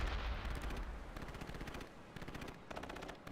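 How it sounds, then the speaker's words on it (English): Explosive artillery barrage in the modern World War III wargame World in Conflict, a loud continuous roll of rapid blasts and booms with rumbling low end, bursts surging in waves. "Fire the barrage."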